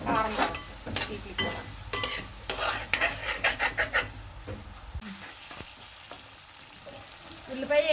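Onions sizzle in a pan for a fish curry while a spoon stirs them in rhythmic scraping strokes, followed by a quieter, continuous frying hiss with occasional clinks.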